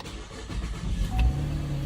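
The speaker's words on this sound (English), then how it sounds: "And you can try to start the car" A Chevrolet Camaro engine starts with a new key, settling into a low, steady idle rumble close by.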